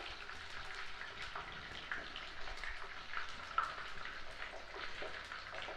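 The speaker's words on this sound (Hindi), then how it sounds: "लेग्स को पहले हम फ्राई कर लेंगे थोड़ा सा" Chicken legs fry in a generous amount of oil, a continuous close crackle and sizzle with scattered pops and spits, no voices over it.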